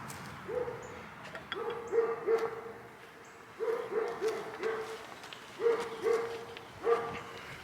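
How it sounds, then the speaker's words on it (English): Dogs at an outdoor shooting range give faint, distant, drawn-out baying calls in repeated bursts over steady background noise. "You gotta love them dogs."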